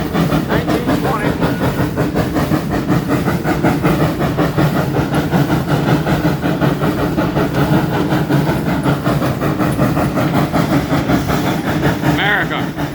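A 1920 steam locomotive on the Arcade Attica Railroad runs backwards, making a continuous loud rumbling roar with rhythmic clatter throughout, and a voice is faintly present beneath it.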